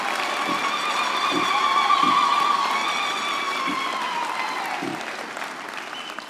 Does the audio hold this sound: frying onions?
no